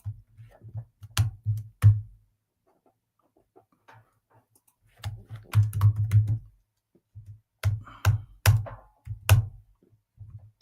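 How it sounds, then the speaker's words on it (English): Typing on an old computer keyboard that sticks, bursts of close, sharp key clicks in quick irregular runs separated by short pauses. "I hate this keyboard. It's old. It gets stuck, the keys"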